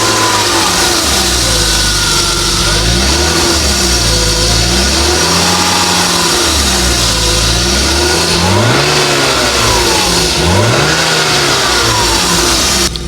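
A 1991 BMW E36 engine revs loudly and steadily, its pitch rising and falling through repeated throttle blips over a continuous idle rumble, close by with no talk.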